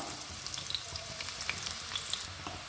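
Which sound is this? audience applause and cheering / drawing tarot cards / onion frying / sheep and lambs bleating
onion frying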